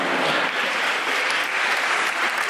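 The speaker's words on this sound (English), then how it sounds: "Hoping that's an anti-bombing clap." Steady audience applause, a dense, even wash of clapping at a live comedy event, loud and unbroken for a couple of seconds.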